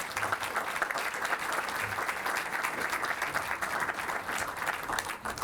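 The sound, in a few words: audience applause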